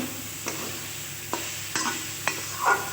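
Broccoli stir-fried in a pan sizzles steadily while a spatula scrapes and taps against the pan four times at uneven intervals, close and moderately loud.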